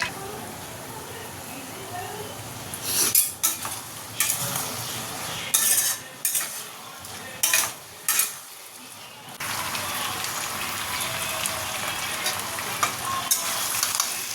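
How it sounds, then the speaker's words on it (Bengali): Chili chicken sizzles in hot oil in a large wok, with a steady frying hiss broken by several sharp scraping clanks of a spatула as the pieces are stirred. "তেলটা একটু কমিয়ে নিয়ে চিলি চিকেনটা করে নেবো।"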